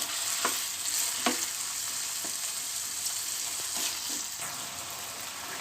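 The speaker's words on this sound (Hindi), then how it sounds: "इसे अच्छे से मिक्स करेंगे और जब तक इसका कलर चेंज नहीं हो जाता तब तक हम इसे पकाएंगे।" Beef mince sizzles steadily in a pan while a spoon scrapes and stirs it in a few distinct strokes, at moderate, fairly quiet level with no talk.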